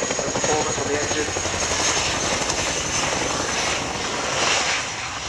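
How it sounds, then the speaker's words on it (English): Royal Air Force Chinook helicopter landing at an air display, a loud heavy rotor and turbine roar with rhythmic blade thumping throughout, mixed with crowd or commentary noise in the background. "The aircraft will rapidly slow down and the wheels will touch the ground at approximately 60 knots."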